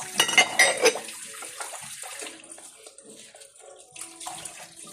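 Water runs into a kitchen sink, splashing and clattering loudly at first, then settling into a softer, steady trickle and gurgle close by.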